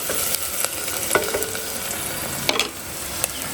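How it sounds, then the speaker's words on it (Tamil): Chopped onions with curry leaves sautéing in hot oil in a pan, a continuous close sizzle with a few sharp stirring scrapes and taps, heard alone. "ஆனியன் ஆட் பண்ணிவிட்டு நம்ம வதக்கிக்கலாம்."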